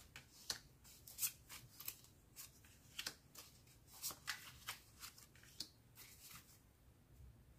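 Tarot cards being shuffled and drawn for a reading: soft, close riffles, slaps and snaps of card stock coming in irregular bursts, faint and without any talking.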